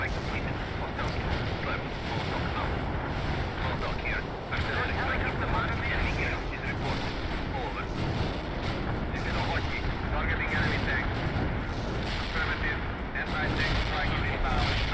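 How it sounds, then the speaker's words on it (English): Artillery barrage in the real-time strategy game World in Conflict: continuous dense rumbling booms and crackling blasts, layered thick and loud across the whole stretch with voices mixed in. "Preemptive artillery barrage."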